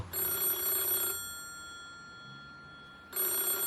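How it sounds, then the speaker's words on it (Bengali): A telephone rings as an audio story sound effect: two loud, bright bursts of a rattling bell, separated by a quiet pause of about two seconds. "হঠাৎ টেলিফোন বেজে উঠল"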